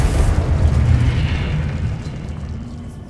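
A Confringo fire spell explodes in the Hogwarts Legacy video game, a loud, rumbling boom with a heavy low-end burst that slowly decays over about three seconds, with no talk over it.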